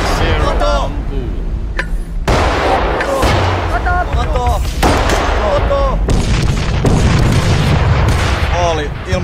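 Military weapons fire loudly during a Finnish Defense Forces battlefield exercise, with repeated heavy booms and gunshot blasts over continuous background noise and radio-style commands spoken throughout.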